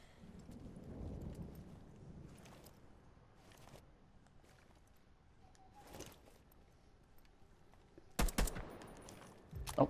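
Gunfire in a shooter video game: faint scattered shots and low rumble at first, then a sharper, louder burst of rapid shots near the end.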